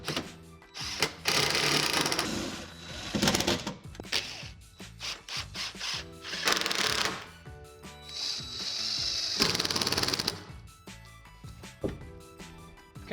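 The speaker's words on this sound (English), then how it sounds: "And finally, secure it in place using those screws." Power driver drives screws to secure a shower wall panel, several separate whirring bursts of a few seconds each with pauses and handling clatter between them, fairly close and moderately quiet.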